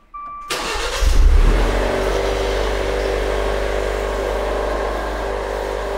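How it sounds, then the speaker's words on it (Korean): A Maserati sports car engine, started indoors, cranks and catches with a loud roar, then settles into a steady, rumbling idle close by. "시동 한번 걸어봐요. 소리 한번 들어보게."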